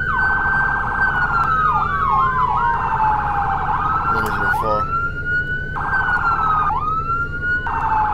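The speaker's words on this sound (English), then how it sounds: "how do you turn on your flipping sirens?" A police car siren in the Roblox game Maple County wails loud and steady, switching between a rising-falling wail and a fast yelp, with a brief burst of a different tone midway.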